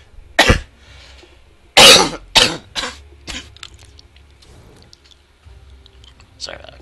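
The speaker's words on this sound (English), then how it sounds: "Sorry about a cough." Several sharp, close coughs burst out in a loose cluster, followed by fainter throat-clearing sounds and light clicks in a quiet room.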